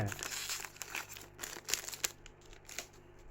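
Crinkling and tearing of a Pokémon card booster pack wrapper, close and continuous, with sharp crackly bursts as the foil resists, and faint voice in the background.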